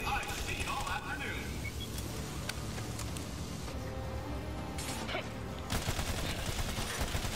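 Rapid gunfire rattles in the sci-fi shooter Battleborn, dense bursts of shots layered over game music and effects, with a player's voice talking over the action.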